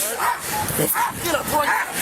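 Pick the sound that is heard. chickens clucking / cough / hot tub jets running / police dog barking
police dog barking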